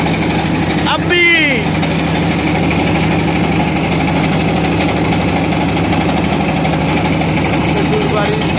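A boat's engine drones steadily throughout a river trip, a loud, even hum with a brief high warbling sound near the start.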